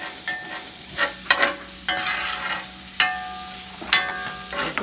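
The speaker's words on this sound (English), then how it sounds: "I'm gonna fry this down a little bit." Food frying in a pan for seafood stuffed bell peppers, with close bursts of sizzle and spoon-stirring scrapes recurring about every second over a steady low hiss, and no voices.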